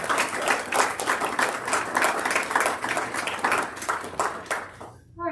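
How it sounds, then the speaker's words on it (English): A round of applause at a school board meeting, a modest group clapping steadily with individual claps distinct, fading out at the end, with no talking over it. "Can we give them a round of applause?"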